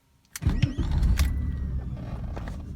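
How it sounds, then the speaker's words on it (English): A 1990 BMW 735iL cranks and fires, its engine catching quickly and settling into a steady, loud idle close by, with no talk over it. "So let's start the car up here."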